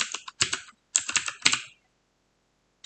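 Close computer keyboard typing in two quick bursts of crisp clicking keystrokes, followed by silence.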